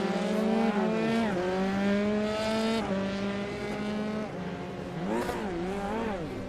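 Formula 3 race cars in iRacing at the Circuit of the Americas scream past, their engine tones rising and falling through gear changes as several cars pass close by, with no speech.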